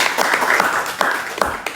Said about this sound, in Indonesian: mungkin boleh tepuk tangannya buat Kavian.